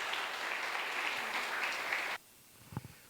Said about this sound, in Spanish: Si ese aplauso fue para su servidor, de verdad que se los agradezco